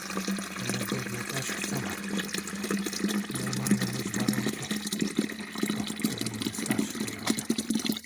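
Warm water pouring steadily from a tap or container into a bird's drinking vessel on a rural farm in winter, a continuous close splashing and gurgling flow with a brief rhythmic low burbling near the bottom.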